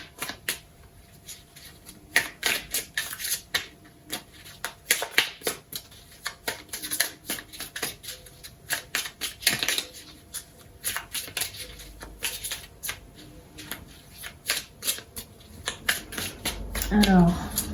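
Tarot cards are shuffled repeatedly in quick riffling bursts with short pauses between, close and crisp, with a soft voice speaking French at times between the shuffles.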